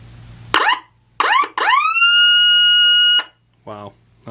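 MG Electronics Ultra Blasting siren sounding a steady tone: after two short rising bursts, a loud sustained wail holds for over a second and then cuts off, followed by a brief short tone.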